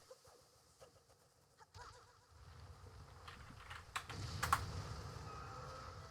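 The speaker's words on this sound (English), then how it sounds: "Wait, why am I typing in chat?" Computer keyboard typing during a Wind Waker HD speedrun stream, a scattering of light key clicks that stays fairly quiet, heard alongside game sounds and background noise.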